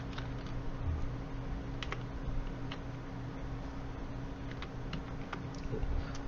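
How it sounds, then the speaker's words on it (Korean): Soft, rapid keystrokes on a computer keyboard while entering data into an Excel spreadsheet, scattered clicks over a steady low hum, with a couple of firmer presses like the Enter key, no talking. "입력하시고 엔터 치시고요."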